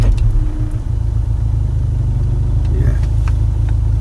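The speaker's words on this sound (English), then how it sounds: "Definitely does a really peculiar noise." A Skoda Superb engine with suspected engine mount trouble runs close by, giving a steady, loud low rumble with a slight uneven throb and no break throughout.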